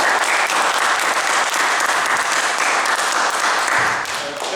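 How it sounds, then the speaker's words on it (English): Meeting audience applauding in a room, a loud, dense burst of clapping that stays steady before easing off at the end. "Okay, round of applause"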